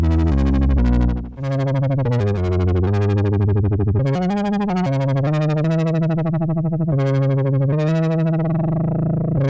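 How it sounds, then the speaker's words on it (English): A buzzy Behringer 2600 synthesizer plays a sequence of distorted notes with its filter sweeping the tone, drenched in splashy, metallic spring reverb, loud and continuous. "Bringing in some spring reverb."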